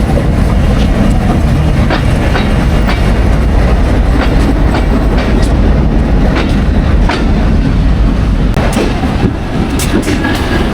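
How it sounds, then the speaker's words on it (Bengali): The Mongla Commuter train rumbles past close by entering Jessore Junction, with steady rolling noise, rhythmic clickety-clack of wheels over rail joints, and sharp metallic clanks. "মংলা কমিটার ট্রেনটি প্রবেশ করছে দশর জংশনে"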